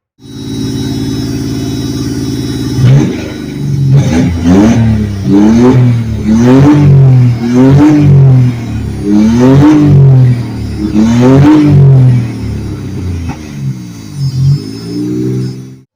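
A Geo Metro engine with RPM sync trouble idles, then revs loudly about seven times in quick rising and falling bursts before settling back to a steady idle, close and with no talk.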